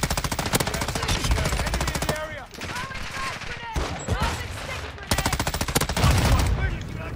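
Rapid automatic gunfire in a Call of Duty multiplayer match on the Shipment map, with loud, close bursts of rattling shots broken by short pauses, under excited commentary from a player.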